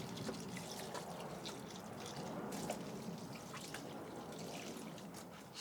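Banana skin water poured from a container onto pepper plants in a garden plot, a soft continuous trickle and splash with scattered drips, fairly quiet and close.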